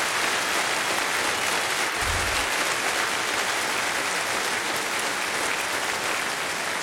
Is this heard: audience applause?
yes